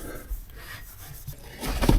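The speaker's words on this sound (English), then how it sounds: "Let's take this dull off with some clean wire wool." Fine 000 wire wool rubbing against a metal wheel in steady scratchy strokes, close up, growing louder and rougher near the end.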